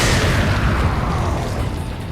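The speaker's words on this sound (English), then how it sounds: "Blow only him up. I think we have a grenade." A grenade blast in Resident Evil 4 lands as a loud, deep boom right at the start, then rumbles and fades away over a couple of seconds.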